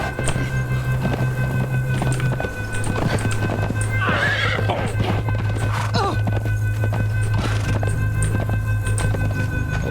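A horse in the Conan Exiles video game clops along at a steady walking rhythm, and loud whinnies rise over the hoofbeats twice midway.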